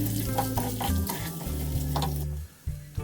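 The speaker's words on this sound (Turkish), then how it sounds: "Sonra pirinci güzelce kavuruyoruz." Rice sizzles and crackles as it toasts in hot oil in a pot for chicken pilaf while a spoon stirs and scrapes steadily, with a brief pause near the end.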